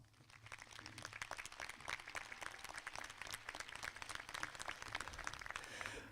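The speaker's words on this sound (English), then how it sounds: "Please join me in a round of applause" Graduation-ceremony crowd at a high school applauding the faculty and staff, a steady wash of many hands clapping together from a distance, even and sustained throughout with no voices.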